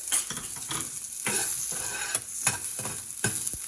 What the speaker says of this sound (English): First I'm going to saute the vegetables. Carrots here.